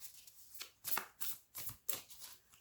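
A deck of oracle cards is shuffled up close, giving a series of quick, soft riffling bursts in an irregular rhythm, fairly faint and with no talking.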